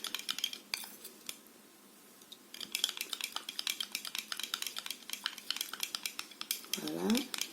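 A spoon stirs homemade rose water serum in a small dish, tapping and scraping in a quick, rhythmic run of light clinks, pausing briefly, then resuming close up, with a short voice near the end.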